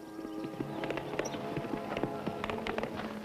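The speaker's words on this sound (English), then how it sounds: "Look, there's a riderless horse." A riderless horse's hooves clip-clop in a quick, steady rhythm on open ground, fairly faint beneath a layered outdoor soundtrack.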